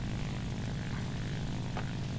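A propeller airplane engine in the War Thunder combat flight game drones loudly and evenly throughout, a dense unbroken roar with no voices over it.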